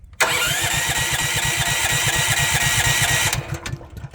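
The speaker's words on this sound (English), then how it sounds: "I'm gonna crank it a little bit with no choke and then put the choke on afterwards." A Honda portable generator's small engine cranks steadily on its electric starter with no choke, a loud even rhythmic chugging for about three seconds that fails to catch, then stops.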